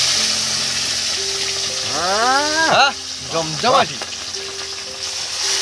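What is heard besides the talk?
katla fish pieces frying in hot oil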